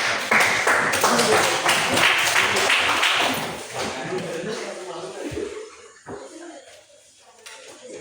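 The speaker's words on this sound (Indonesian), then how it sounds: "Beri tepuk tangan dulu." A classroom audience at a vocational school applauds a student group, with dense, fairly loud clapping for about four seconds that thins and fades while voices murmur underneath.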